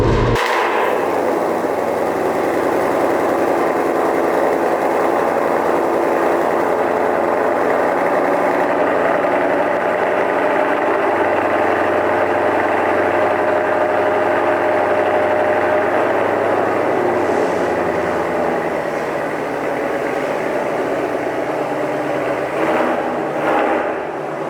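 A 2021 Ford Shelby GT500 engine running steadily at a loud, close idle with a deep continuous rumble, a brief rev at the start and slight changes near the end, with no talking.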